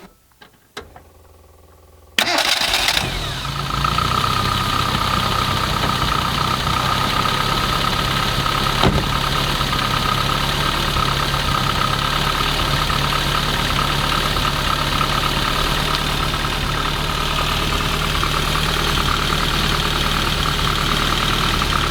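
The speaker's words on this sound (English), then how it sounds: "So this is a 1275 A Plus engine, kind of one of the later A-series motors" A classic Mini Mk1's 1275cc A-Plus A-series four-cylinder engine starts up, then idles steadily and evenly with a low, continuous rumble close by.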